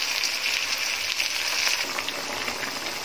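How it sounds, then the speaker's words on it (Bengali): Ground spices (cumin, chili, turmeric) with garlic and ginger fry in a pan with tomatoes for a Bengali fish-head murighonto, giving a steady, close, broadband sizzle that holds even throughout. "এবার দেব গুঁড়া মশলা, সজ, মরিচ, হলুদ দিয়ে মশলাটা ভালো করে কষিয়ে নেব"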